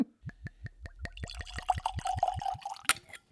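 Bourbon poured from a bottle into a glass: a run of evenly spaced glugs that speed up and merge into a bubbling, rising trickle, close and quiet, ending with a small clink.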